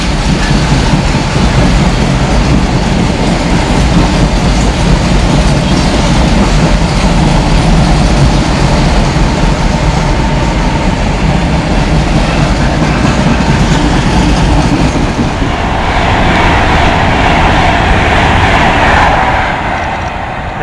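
A heavy steel freight train hauled by a Class 66 locomotive rumbles past at Nuneaton, continuous and loud, wheels clattering steadily on the rails, with a deep engine drone underneath.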